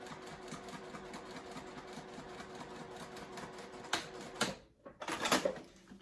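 A sewing machine running a seam at a long stitch length, a steady rapid mechanical whir that stops near the end, followed by a few brief handling clunks.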